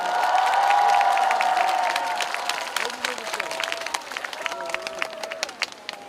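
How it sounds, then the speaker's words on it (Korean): An outdoor concert crowd at the Daejeon 0 o'clock music festival cheers loudly at first, then settles into scattered, crisp clapping that tapers off, with someone talking over the applause. "큰 박수 한번 부탁드립니다"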